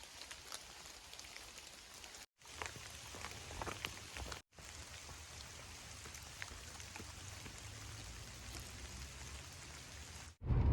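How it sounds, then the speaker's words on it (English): Quiet, steady rain patters on surfaces around a car at a state park in Arkansas on a dreary afternoon, a continuous soft hiss with scattered droplets and brief cuts in the sound. "Still kind of dreary, it's rainy."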